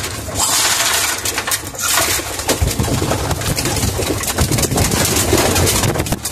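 Pigeons coo and rustle nearby at a garden spot among potted moringa and oregano plants, their low murmurs mixed with wind buffeting the microphone and crunching handling noise.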